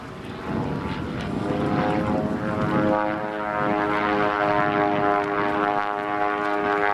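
An aerobatic propeller plane flies a hammerhead maneuver at an airshow, its engine droning with strong harmonic whine that rises and holds steady, loud and continuous, growing tonal as the climb and turn progress.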